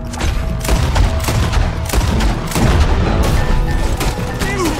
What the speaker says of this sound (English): I'm shooting everybody in the city